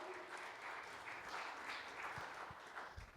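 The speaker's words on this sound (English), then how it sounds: "Can we give a round of applause for them?" Crowd applause for a wrestling team that finished runner-up in the Trailblazer Conference tournament, a steady dense wash of many hands clapping at moderate level throughout, with a few lower thumps near the end.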